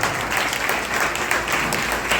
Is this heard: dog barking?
no